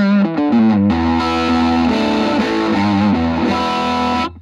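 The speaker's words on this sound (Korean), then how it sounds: "그다음에 부티크 오버드라이브를 합니다." Overdriven electric guitar through a VOX Mini Go 10 amp on its boutique overdrive model, a few quick picked notes giving way to sustained, thick distorted chords ringing steadily and loud without speech.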